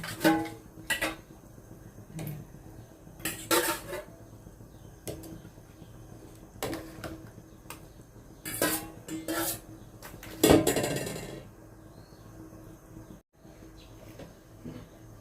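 Fish head going into a cooking pot for tom yum, heard as a string of separate clanks and knocks of metal pot and utensils, spaced irregularly, close and moderately loud, with quiet gaps between and no talking.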